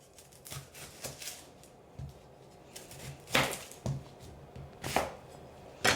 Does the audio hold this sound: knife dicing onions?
yes